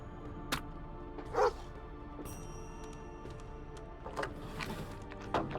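A dog in the video game Lost Horizon gives a few short, sharp barks and yips spaced through the clip, moderately loud above a faint ambient game background, with no speech.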